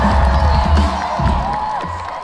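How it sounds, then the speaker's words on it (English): At a rock concert in Asbury Park, New Jersey, a large crowd cheers and whoops in a dense roar that fades slightly, with scattered shouts and clapping. "let's get a big round of applause for security tonight"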